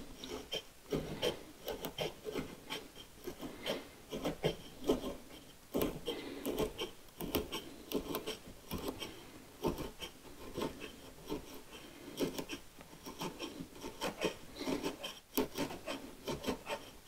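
A wide wood chisel trims edge banding on a workpiece, making repeated dry scraping and rasping strokes in an uneven rhythm, close and fairly loud, with small knocks between strokes.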